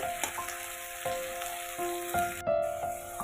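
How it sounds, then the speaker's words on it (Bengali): Spinach fries lightly in a pan for a spinach-coriander chicken dish, a soft continuous sizzle broken by regular clinks and scrapes of a spatula stirring, close and without talk. "পালং শাকটা দেওয়ার পরও আমি একটু নেড়েচেড়ে হালকা ভেজে নিচ্ছি"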